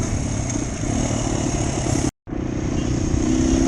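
A motorcycle engine runs steadily with a dense mid-range drone and a constant buzz, close and loud, cut by a brief dropout before resuming with no speech.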